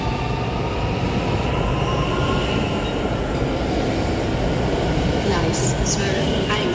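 A train pulls into a station platform with a loud, steady rumble of wheels and carriages and faint squeals near the end, while a voice speaks over it.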